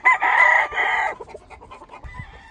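Roosters crow loudly and up close, a strong drawn-out call filling the first second, followed by softer scattered clucking and fowl chatter with low thumps near the end.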